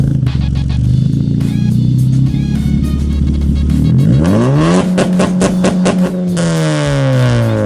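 Honda Civic Si exhaust as the engine starts and revs, a loud idle rumble that swells into several rising revs and falls back, with sharp harmonic sweeps and occasional clatter, recorded close to the car.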